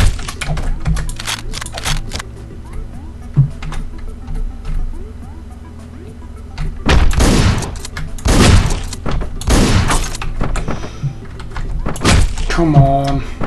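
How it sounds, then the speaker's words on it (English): Gunshots in the top-down action game Hotline Miami ring out as a few sharp, loud bursts over a steady music bed, with a cluster of shots near the end. "I have to shoot him right away"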